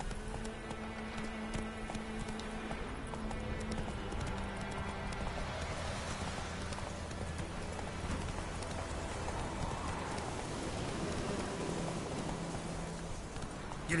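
A horse gallops in The Witcher Wild Hunt game, its clip-clop hoofbeats running steadily and fairly quietly throughout under a soft rain-like background wash, with no talking.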